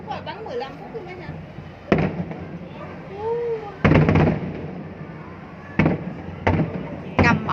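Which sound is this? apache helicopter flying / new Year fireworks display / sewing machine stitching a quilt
new Year fireworks display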